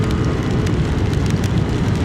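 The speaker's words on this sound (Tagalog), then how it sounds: "Lakas ng ulan, no?" Heavy rain falls steadily during a motorcycle camping trip, a dense continuous wash of drops close by and fairly loud, with no voices.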